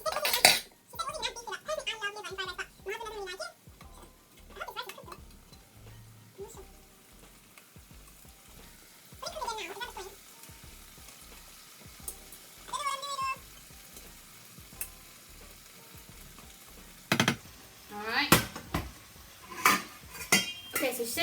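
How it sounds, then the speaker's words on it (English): Rice being stir-fried in a pan for Nigerian fried rice, with steady scraping and clinking of a spatula against the pan over a soft sizzle, close by, with a few sharper knocks near the end. "stir fry for 1 to 2 minutes"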